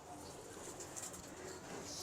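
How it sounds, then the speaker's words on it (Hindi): Sheikhupuri pigeons in a loft coo softly, their low murmuring calls close by over a faint background hiss, with no one speaking. "शेखपुरी कबूतर हैं जो इन्होंने अब ऐड करने हैं"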